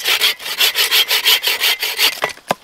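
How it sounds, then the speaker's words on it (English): A hand saw cuts through wood for a fire base in deep winter snow, steady rhythmic back-and-forth strokes, loud and close, about a dozen strokes before a couple of final scrapes. "I'm just cutting some wood for a base for the fire to go on top of."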